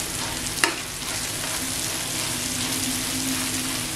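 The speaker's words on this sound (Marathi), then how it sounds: "हे पण एक 2-3 मिनिटं फ्राय करून घ्यायचे मसाले." Spice masala frying in oil for a liver masala fry, a dense steady sizzle close up with one sharp spoon tap early on and no talking.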